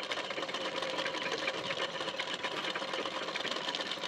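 A sewing machine stitches a hook strip of 1.5-inch-wide fabric band in a continuous, steady mechanical whir with rapid needle ticking, close by and uninterrupted.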